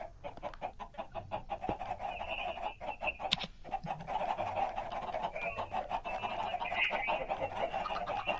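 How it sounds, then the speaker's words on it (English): Several Minecraft chickens cluck and squawk in quick, overlapping bursts, close and moderately loud, against a faint low background hum. "Let all the chickens go."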